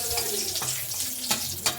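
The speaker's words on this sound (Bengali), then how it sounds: "এর মধ্যে আমি দিয়ে দিলাম একটু লঙ্কা ফোড়ন" Dried red chili fries in hot oil, a close, steady sizzle and crackle with a few sharper pops and a light scrape of stirring.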